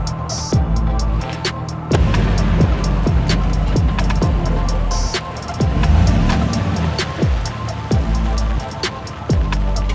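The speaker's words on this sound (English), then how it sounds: "I'm gonna move the truck around into the sun" A 2019-or-newer Chevrolet Silverado pickup rolling and maneuvering close by, its steady engine and road rumble loud and continuous, with repeated knocks and clunks breaking through the drone.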